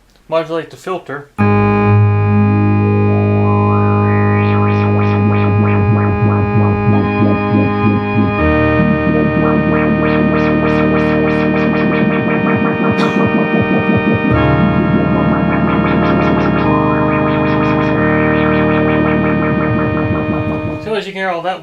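Moog synthesizer, an Opus 3 section, with its filter modulated under delay, sustained chords swept by rising and wavering filter pulses, loud and steady, with brief noises at the start and end.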